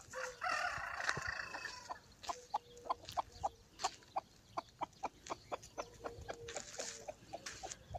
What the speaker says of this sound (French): regardez ma poule, elle est dehors là. Vous l'entendez?